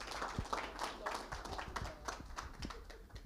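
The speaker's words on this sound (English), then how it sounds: "Please, asking a round of applause for Erika as she goes into her presentation" A room full of people gives a presenter a round of applause at an evening panel event, with steady, dense clapping throughout at moderate loudness and no talk over it.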